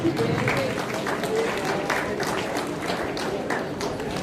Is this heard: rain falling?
no